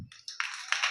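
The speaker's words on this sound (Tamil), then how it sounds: "இப்போ சந்தோஷமாக கை தட்டுங்க" A church congregation claps their hands together, a dense, fairly faint patter of many hands building over about a second with no talking.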